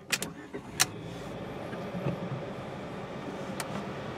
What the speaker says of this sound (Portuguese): Fiat Mobi ligado.